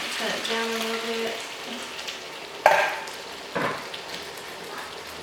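Coconut milk and diced tomatoes go into a hot frying pan, with a soft sizzle and bubbling as a spoon stirs, a few sharp clinks and scrapes, and a faint tonal sound early on.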